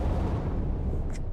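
A dull, rumbling explosion in the physics building game Besiege, a broad low boom that rolls on without a break, followed by a couple of faint higher crackles near the end.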